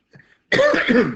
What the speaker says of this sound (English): So I had a little cough attack there